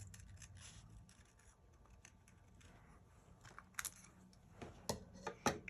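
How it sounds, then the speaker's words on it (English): Scissors cut paper for a faith journal page in a series of faint rustles and snips, with sharper, louder clicks of the blades near the end. "It's where those fussy cutting skills come in handy."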